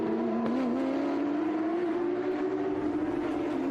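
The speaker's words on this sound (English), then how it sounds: "There's Juan Fayen, the first of our Ferraris." Ferrari race cars at VIR (Virginia International Raceway) sound as a sustained engine whine with a slowly rising pitch, heard at moderate distance against a broad track background hum.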